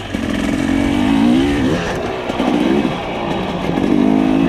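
A TE300i enduro motorcycle sets off on a cross-country ride, its engine droning loud and close with rising and falling revs throughout.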